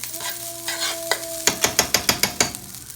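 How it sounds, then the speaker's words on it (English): A box of Zatarain's Caribbean rice fries in a pan, a soft sizzle under about ten quick, sharp scraping strokes of a spoon stirring it in an even rhythm, close up. "Again, I use a whole box of Zatarain's Caribbean rice. Gonna let that fry up for about 3 to 4 minutes."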